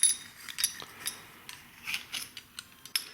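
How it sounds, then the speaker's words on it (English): S&S pushrod tubes for a Harley-Davidson M8 motor are pulled apart by hand, producing scattered close metallic clicks and small ratcheting snaps with quiet pauses between them. "you take the pushrod tube, the S&S pushrod tubes, and you take them apart."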